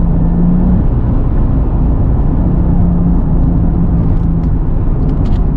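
Toyota Supra RZ turbo engine pulling hard above 5,000 RPM, a loud continuous interior drone with low rumble dominating the whole stretch and no speech.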